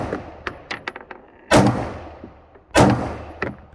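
Two loud Glock 9mm pistol shots fired at plates, about a second apart, each a sharp blast with a decaying tail, amid small metallic clicks and handling noises.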